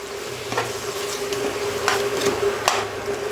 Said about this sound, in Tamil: இதை போட்டு ஒரு 5 நிமிஷம் கலரலாம்.